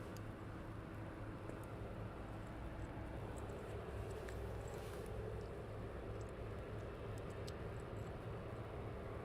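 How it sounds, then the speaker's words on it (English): Boeing 777 taking off at night at East Midlands Airport, a steady, fairly distant low engine roar holding evenly throughout with no voices. "we have a plane taking off"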